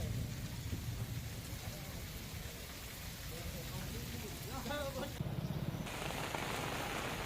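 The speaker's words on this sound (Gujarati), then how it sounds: "કેનેડી ગામમાં ભારે પવન ગાજવીજ સાથે વરસાદ વરસી રહ્યો છે" Heavy rain falling with strong wind in a Gujarat village, a dense steady roar throughout, with faint rumbling that may be thunder and brief voices or other sounds partway through.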